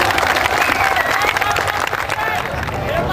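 Audience applause at Trisakti university during an address, a dense steady wash of clapping mixed with crowd noise and some voices, loud and continuous throughout.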